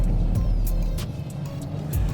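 A Porsche 911 Dakar rally car is driven hard on a special stage, its engine a steady low drone with faint gravel or grit spattering over it, heard fairly close with no voices.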